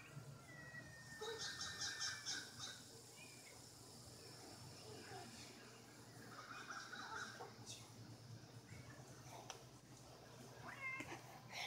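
A male outdoor cat meows a few times at moderate distance, with faint bird calls and background noise around it.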